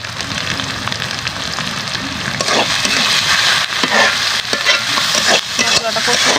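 Spice masala being stir-fried in a pan for a spicy pangas fish curry with salt, turmeric and chilli, a steady loud sizzle with continuous scraping and stirring throughout, no voices.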